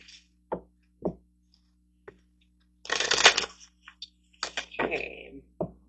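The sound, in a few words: shuffling tarot cards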